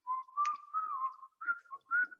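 A person whistles a tune, a short run of clear, bouncy notes heard close and alone.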